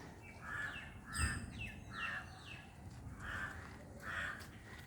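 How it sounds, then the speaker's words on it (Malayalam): Jungle babblers scolding a cat with harsh, grating alarm calls, several raspy bursts repeating in uneven clusters, fairly faint and outdoors with no talking. "കരിയിലെ കിളികളും വന്നിട്ടുണ്ട് ഇവർ പൂച്ചയെ കണ്ടിട്ട് പൂച്ചയുണ്ടെന്ന് മറ്റു കിളികളോട് പറയുകയാണ്"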